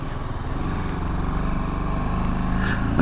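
A BMW G310GS Rallye single-cylinder motorcycle engine drones steadily while riding, a low throbbing hum with wind noise, rising slightly at the end.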